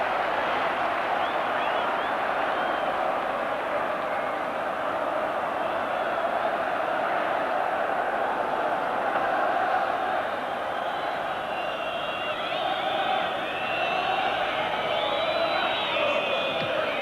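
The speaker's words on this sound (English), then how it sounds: "the crowd now really on its feet" A football stadium crowd at a 1984 Newcastle United versus Middlesbrough match keeps up a loud, sustained roar of cheering and chanting that swells toward the end. Commentary sits faintly under the noise.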